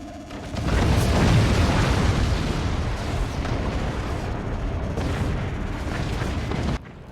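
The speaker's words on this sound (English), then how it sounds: "The curve shot from the Magna Beam." A Magna Beam shot and the explosions that follow in the Forts strategy game sound as a heavy rolling roar of booms and blasts, loud and dense for several seconds before cutting off abruptly.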